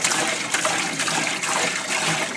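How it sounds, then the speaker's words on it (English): Liquid sloshing and splashing in a parts washer as a part is dumped in, a continuous churning wash of fluid with brief louder surges, close and without talk. "So let's just dump this into the parts washer."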